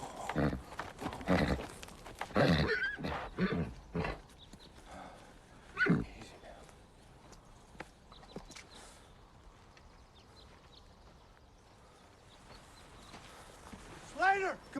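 Horses move with soft hoof clops and snorts, a whinny-like cry rising at the end, while someone talks in bursts early on.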